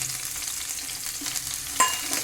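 Chopped onion and green chilli sizzle in a pan as upma is cooked over a low flame, with a steady crackling fry, scraping stirs and one sharp clink of the spoon near the end.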